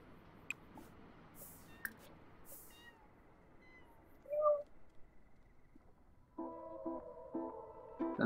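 A kitten meows in The Sims 4 amid a quiet game soundscape: a few brief, faint mews and soft clicks early, then a tonal musical chime near the end.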